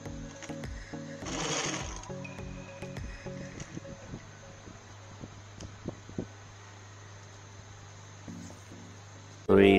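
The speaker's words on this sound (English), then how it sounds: "I just finished sewing the dress" A sewing machine stitches a dinner dress indoors, running in short bursts of rapid rhythmic whirring separated by pauses, close and fairly loud, with a steady background hum.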